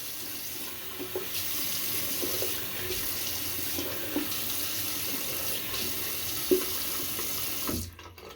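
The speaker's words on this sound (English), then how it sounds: "Let me wet my face. Please pardon the water. This should be the only time you hear it." Tap water runs steadily from a faucet into a sink while a face is wetted before a wet shave with coffee- and rum-scented soap, a continuous rushing hiss broken by small splashes before cutting off near the end.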